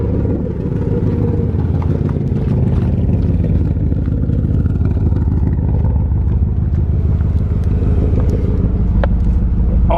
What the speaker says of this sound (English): That's a horrible idle though.